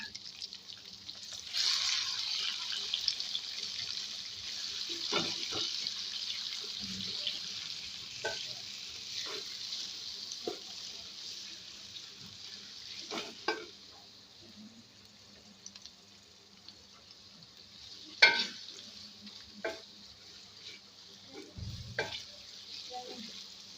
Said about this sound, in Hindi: प्याज जो हमने हल्का सा फ्राई कर लिया है।